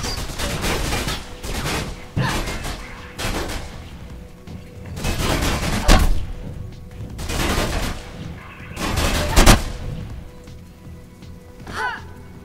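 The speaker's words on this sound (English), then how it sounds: "everything's just really loud, the gunshots are really loud." Several sharp bursts of gunfire crack out in the parkour game Mirror's Edge, loud volleys coming every second or two with quieter rattling gaps between them.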